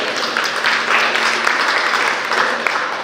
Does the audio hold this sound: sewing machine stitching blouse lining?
no